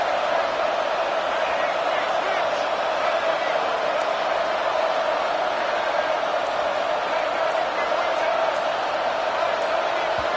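A stadium crowd roars steadily at a Florida State football game, a loud continuous wash of cheering and noise that holds without letup, with a commentator talking over it.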